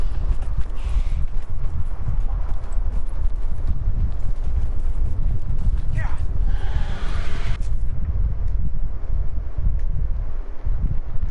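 Rapid hoofbeats of a horse in the video game Dragon Age: Inquisition clip-clopping continuously beneath loud wind-like rushing noise, steady and close throughout.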